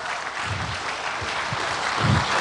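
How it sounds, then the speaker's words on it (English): A conference audience applauds the Hack of the Track 2018 hackathon winners on stage in Bahrain, a dense, sustained crowd clapping with a few louder bursts and whoops, fairly close. "Give them one more round of applause"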